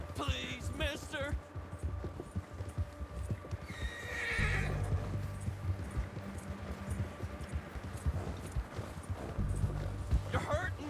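In Red Dead Redemption 2, a horse neighs loudly in whinnying bursts at the start and again midway, while hooves clip-clop in a steady walking rhythm beneath rumbling game ambience.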